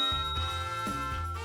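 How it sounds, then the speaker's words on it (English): A small bell labelled for ordering beer rings with a clear sustained tone, struck a few times in quick succession, up close and with no talk. "I have a bell. It says ring for a beer."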